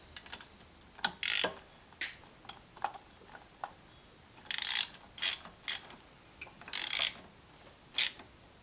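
A ratchet tightening a bolt on a Coleman BT200X mini bike build, giving bursts of sharp clicking pawl strokes in short irregular runs, close and crisp with quiet gaps between, no talking.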